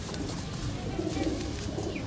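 Soft, low pigeon cooing rises briefly over a steady background hiss, a couple of gentle warbling coos close by.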